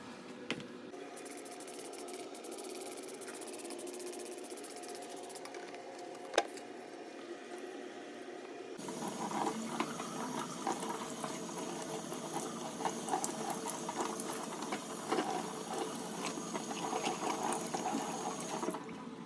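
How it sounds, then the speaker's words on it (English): Tap water runs into a sink while a dusty potted Philodendron Congo Rojo is rinsed, quiet at first, then a louder, fuller rush of splashing flow about halfway through, continuing steadily with no talking. "I'm gonna take this into the sink and give it a quick wash"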